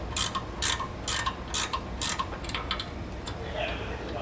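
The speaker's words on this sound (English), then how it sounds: "we're going to grab our 15mm wrench and get those out of there" A ratcheting 15mm wrench loosens a bolt on the rear anti-sway bar of a 2015 Ford F-450 truck, giving a series of close, crisp clicking pulls in a steady rhythm that fade to lighter ticks.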